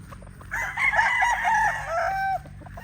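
Breeding stag roosters crow and cluck close by, a drawn-out cock-a-doodle-doo rising over a low hum of farmyard background.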